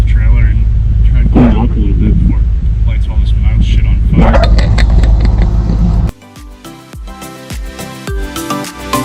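A Chevrolet Camaro SS V8 engine runs with a steady low rumble for about six seconds, then cuts off abruptly, leaving a quieter stretch of clicks and scattered knocks.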